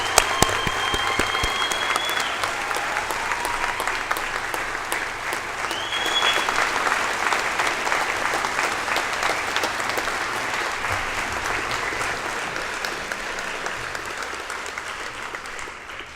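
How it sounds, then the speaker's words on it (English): Audience at a university convocation ceremony applauding the graduates, a long, steady wash of dense clapping from a large hall crowd, with a few brief tonal sounds early on. "a big round of applause for all our graduates is warranted"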